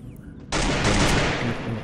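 Rapid automatic gunfire in the Free Fire mobile battle game bursts in after a quiet half second and rattles on loudly and continuously to the end.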